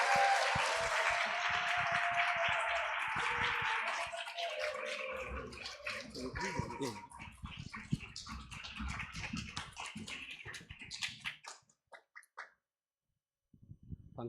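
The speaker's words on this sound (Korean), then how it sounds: "우리 환영의 박수로 우리 목사님 모시도록 하겠습니다" A church congregation applauds to welcome the pastor to the front during a Sunday service: dense, sustained clapping fills the room for about eleven seconds, then thins to a few scattered claps and stops.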